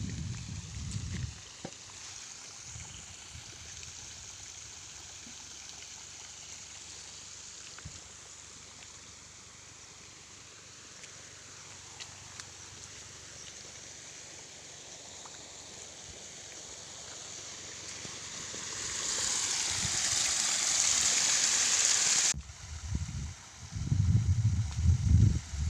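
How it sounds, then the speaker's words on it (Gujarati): Rainwater keeps flowing into a village pond after unseasonal midwinter rain, a steady broadband rushing that swells louder near the end before cutting to a rougher, closer wash. "હજી પાણી આવે છે."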